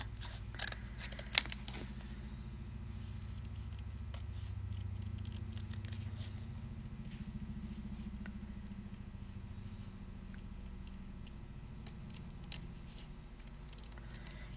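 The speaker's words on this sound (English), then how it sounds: "Never use your good sewing scissors for cutting out cardboard" Sewing scissors snip and crunch through cardboard up close, steady repeated cutting strokes with a soft rustle underneath, for a doll pattern in a sewing workshop.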